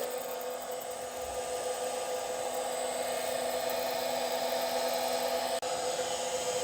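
An Abrasive 1.5 surface grinder runs steadily with a constant whine and hum, close and unbroken apart from one brief click near the end.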